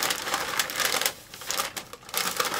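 Wrapping paper crinkles and rustles as it is folded around a gift box, several close crisp bursts of crumpling with a brief quiet gap in the middle.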